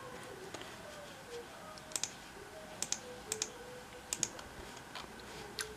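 Computer keyboard typing while writing a book: quiet, irregular clusters of key clicks, soft and close, with short bursts and pauses, alone without talk.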